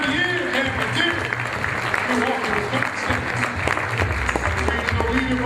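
Crowd at an awards event honoring the 2012 Phenomenal Man of the Year applauding continuously and fairly loudly, with voices and a faint tonal background running under the clapping throughout.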